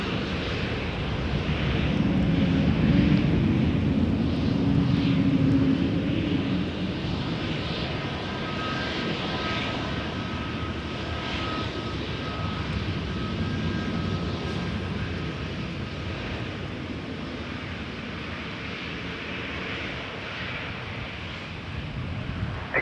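An Air Canada A321 airliner taking off at Toronto Pearson airport, its engines roaring loudly and steadily at first, then easing slightly as the jet climbs away into the distance, with wind noise throughout.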